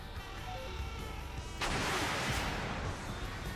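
In a tank combat video game, a cannon fires with a sudden loud blast cutting through steady engine rumble and background noise, followed by a sustained roar that fades after about a second.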